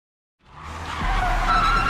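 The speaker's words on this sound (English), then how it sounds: "I zoomed past other cars, my foot hitting the accelerator at every turn" Car engine surging past at speed with tires skidding and squealing, rising from silence into a loud sustained screech and roar after a short pause.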